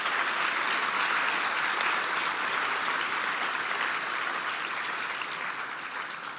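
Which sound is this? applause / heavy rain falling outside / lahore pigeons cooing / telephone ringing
applause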